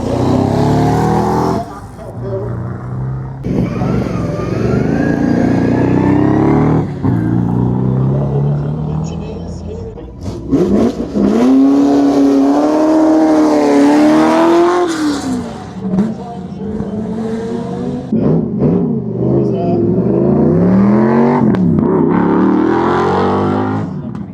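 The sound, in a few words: Rover V8-powered car accelerating at Kop Hill hill climb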